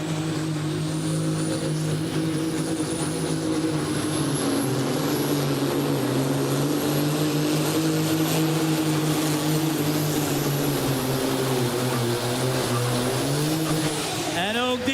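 The Red Bunny 3.6 Supersport pulling tractor roars through a run at a competition, its engine holding a loud, sustained high-revving drone with a steady pitch before cutting off sharply at the end, with a commentator's voice over it.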